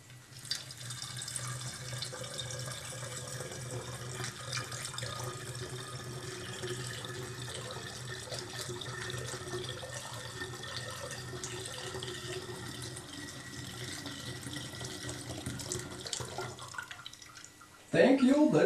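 Fruit juice pours steadily into a wine-making vessel, a continuous soft splashing stream that lasts nearly the whole stretch, fairly quiet and close, with a brief louder shift at the very end.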